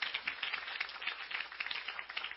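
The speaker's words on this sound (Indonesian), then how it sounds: "Yang setuju berikan tepuk tangan yang meriah" A church congregation applauds during a sermon with a steady, fairly distant patter of many hands clapping together, soft and even throughout.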